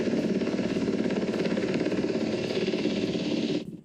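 Rescue helicopter over the cliffs at Malibu after a Tesla plunged off Mulholland Highway, its rotor drone loud, steady and close, then cutting away sharply near the end.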